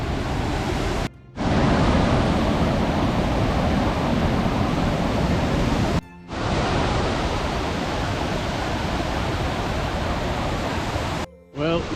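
Heavy rushing water of the Falls of Falloch in full spate on a rainy day along the West Highland Way, a loud, dense, steady roar broken by a few brief gaps.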